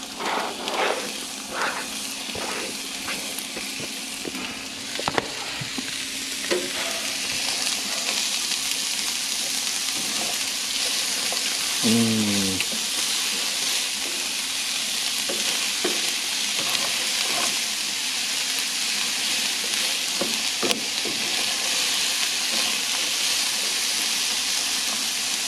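Onion frying in a pan, a steady broadband sizzle that runs throughout with occasional stirring clicks and scrapes, close and fairly constant in level, with no talking.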